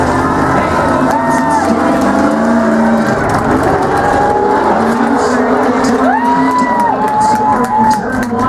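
Race trucks roar around a track, with a continuous engine drone and shifting pitches from passing vehicles, under a crowd and live commentary.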